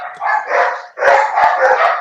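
Dogs bark in two dense bursts of overlapping, fairly close barks and yips, loud and continuous with a short pause between them.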